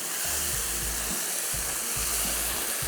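Kofta karahi gravy sautéed in a karahi, a constant dense sizzle and hiss with low thumps and scrapes of stirring coming at an uneven rhythm, close up and without speech.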